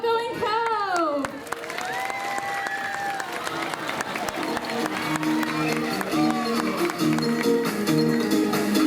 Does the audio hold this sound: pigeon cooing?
no